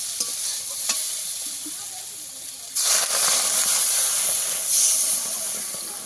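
Eggplant and gima greens frying together in a pan, a soft sizzle with a few utensil taps that suddenly swells into a loud, hissing burst of steam and sizzling, close by, with no talking.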